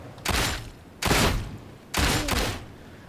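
Three loud gunfire bursts from a low-recoil weapon in Warhammer 40k Darktide, each lasting about half a second and separated by short gaps, close and with no voices.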